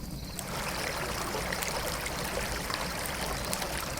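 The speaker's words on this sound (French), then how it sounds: "Le sol se fend alors et une rivière en jaillit." A river gushes out of cracked ground in a traditional Inuit folktale, heard as a continuous rush and splash of flowing water, fairly close and steady, with no voices.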